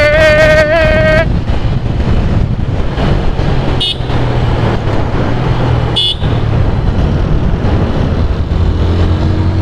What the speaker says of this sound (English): the exhaust note is just amazing on this motorcycle